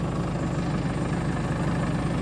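A Mahindra tractor engine idles in a field after starting, with a constant, even low rumble and a fine mechanical chatter, close and fairly loud.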